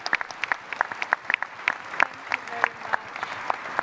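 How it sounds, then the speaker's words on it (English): Audience applause in a festival hall during a scientific conference panel discussion, steady rapid clapping from a large crowd, moderately near, with a few sharp individual claps and faint voices underneath. "To the EU, let's give them a round of applause for their support for this reception."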